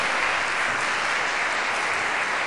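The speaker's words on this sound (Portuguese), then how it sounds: "Dê um aplauso ao Senhor." A church congregation applauds the Lord during a worship service, dense sustained clapping filling the room at full loudness, with no speech over it.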